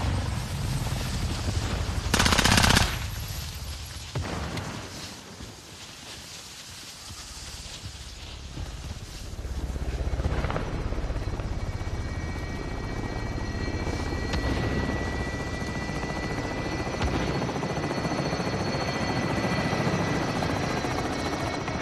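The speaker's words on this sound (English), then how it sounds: "Helo is inbound for deposit." Steady, loud helicopter rotor and engine drone arriving in the video game Call of Duty, holding throughout with a brief burst of distant gunfire near the start and faint game effects layered on top.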